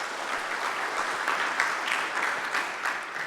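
Audience applause for panelists at a national security symposium, steady moderate clapping from a crowd that holds at an even level throughout, without voices.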